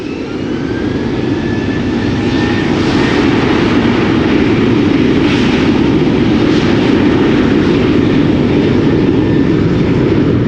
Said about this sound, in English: So the TUI Dreamliner to Willemstad.